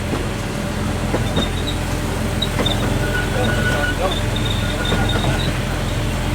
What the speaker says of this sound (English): This is our older train. It's driven by chains.